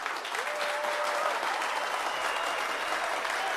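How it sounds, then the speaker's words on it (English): Dense applause from a crowd fills an auditorium, a steady, loud wash of many clapping hands that holds evenly throughout, with a faint tonal whistle drifting over it early on. "The auditorium swells with mad applause."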